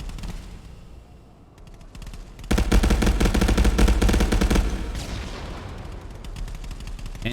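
Bursts of automatic gunfire and grenade blasts in the VR shooter ContractorsVR during a competitive match, starting quieter, then a loud sustained volley of rapid shots before tapering into scattered fire.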